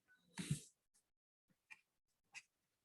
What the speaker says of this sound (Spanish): hay una gatita llorando acá